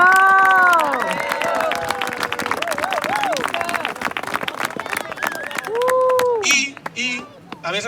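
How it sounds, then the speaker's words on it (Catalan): Campfire audience at a Terrassa hiking club gathering breaks into loud applause and cheers, with sustained clapping, shouts and whistles throughout and several voices singing and calling out over the crowd. "un fort aplaudiment per ells"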